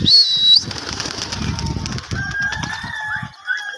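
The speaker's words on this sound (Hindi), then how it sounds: "कबूतर उड़ाएंगे गाइस।" Pigeons burst into flight with a loud flurry of flapping wings up close, the rapid wingbeats carrying on for a few seconds over chirps and faint bird calls.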